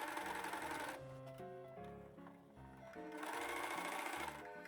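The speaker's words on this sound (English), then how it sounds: "After attaching everything, I assembly line serge the raw edges finished." A serger sewing machine finishes the raw edges of thrifted dress fabric being refashioned into a blouse, running in close, loud bursts of rapid stitching that dip briefly in the middle before speeding up again, with no voices.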